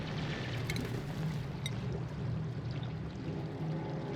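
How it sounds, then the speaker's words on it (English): Polluted water vent in the game Oxygen Not Included, a steady close bubbling gurgle of liquid that keeps up without a break, with faint clicks on top. "Ah, polluted water vent."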